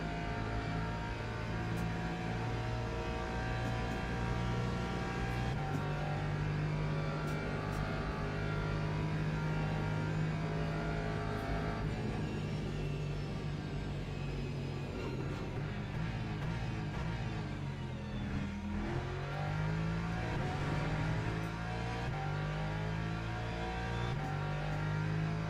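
A BMW race car's engine in a racing sim, a loud continuous drone that rises and falls through gear changes, with pitch sweeps as the revs climb and drop under braking and acceleration, steady throughout.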